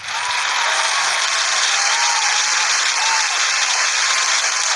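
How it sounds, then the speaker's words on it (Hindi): Dense, steady applause from a large group, loud and continuous throughout with no pauses or voices standing out. "भाई के आइडिया के लिए ढेर सारी तालियां होनी चाहिए"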